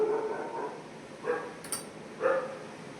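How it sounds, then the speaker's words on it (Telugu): A dog outside at night gives a few drawn-out barking cries at a moderate distance: one longer call, then two shorter ones spaced about a second apart, with quiet in between. "ఆ చూడు ఎట్లా మొత్తుకుంటుందో కుక్క."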